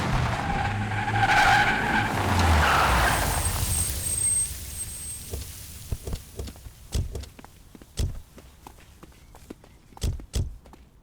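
A car roars off with a sharp, screeching tire skid that swells and fades over the first few seconds, followed by scattered thumps and knocks and low background noise.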